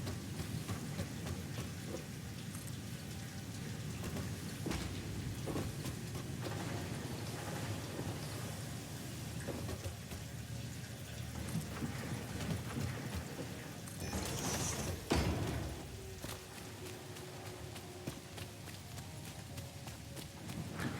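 Steady rain pours down in the factory-building game Satisfactory, with rolling thunder and a sharp crack of thunder partway through, a continuous loud wash with no talking.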